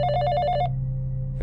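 A telephone rings in a film flashback: one rapid, bright electronic trill that cuts off abruptly, leaving a low steady hum underneath.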